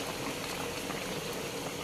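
A pot of ginataang labong, bamboo shoots in coconut milk, boiling at a steady, dense bubble that continues unbroken and close throughout, with no voices.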